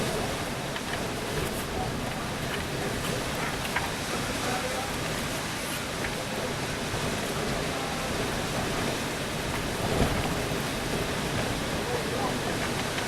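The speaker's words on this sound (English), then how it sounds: "This is not 16-mile-an-hour winds." Strong, gusty wind storm in Victorville, California, roaring steadily as broadband noise for the whole stretch, loud and unbroken with a slight surge near the end.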